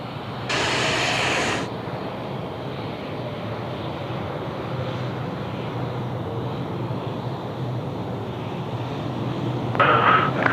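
Qantas heavy jet airliner landing at a rain-soaked Sydney Airport, a steady loud roar with broad rushing noise throughout and a brief brighter burst near the start.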